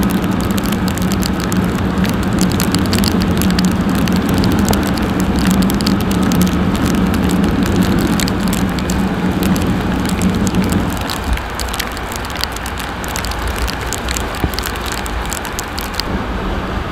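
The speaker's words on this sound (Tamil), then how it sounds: "அம்மா செம்ம மழை." Heavy rain in Kerala pours over a moving Honda Dio motorbike, a dense steady hiss of rain mixed with road and engine rumble that eases a little near the end, with no talking.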